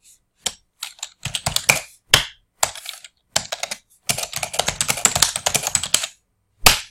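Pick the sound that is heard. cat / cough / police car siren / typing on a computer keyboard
typing on a computer keyboard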